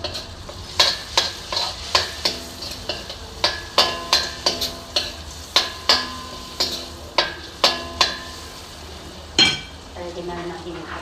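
Garlic being sautéed in a pan for spaghetti sauce, with a series of regular sharp scraping strokes of a utensil against the pan over a soft sizzle, and a clatter near the end.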